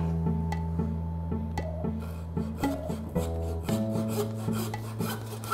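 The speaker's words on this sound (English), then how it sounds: "Sawing through the spare ribs." A butcher saws through pork spare ribs on a whole pig carcass, a steady rasping stroke repeated back and forth with tonal ringing, close and fairly quiet, without any talking.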